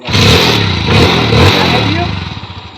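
A broken-down motorcycle's engine revs in loud, pulsing surges on a roadside, close by. Loud talking overlaps the engine throughout.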